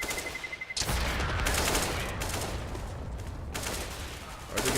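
Counter-Strike: Global Offensive gunfire during a competitive match, heard as rapid bursts of shots and a dense fusillade that fills the clip, with brief breaks between volleys.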